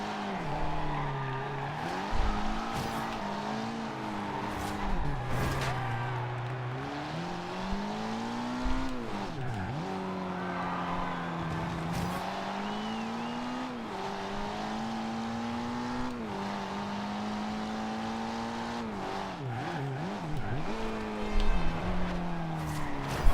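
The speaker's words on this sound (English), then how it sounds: "This car slides a little more than most cars I take here." Car engine in a driving video game, revving and shifting pitch steadily with sliding, skidding tire noise as the car loses grip through corners, loud and continuous throughout.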